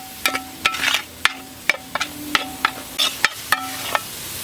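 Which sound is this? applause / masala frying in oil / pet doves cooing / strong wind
masala frying in oil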